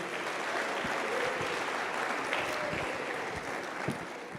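A church congregation applauds together in sustained, dense clapping with scattered louder claps and a few voices faintly underneath.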